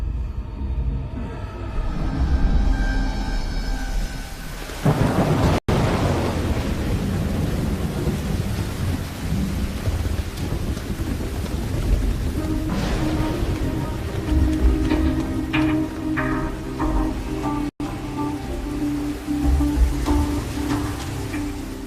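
Heavy rain pours steadily while deep thunder rolls and rumbles, one strong crack swelling early before the storm settles into a sustained downpour.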